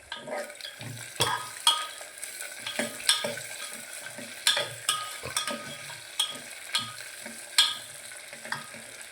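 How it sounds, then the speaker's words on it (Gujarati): Valor beans being stirred into a curry in a frying pan, a spoon scraping and clinking in a steady series of distinct strokes over a soft sizzle, close and fairly loud. "હવે આપણે વાલોર નાખી દો. શાક હલાવી નાખો."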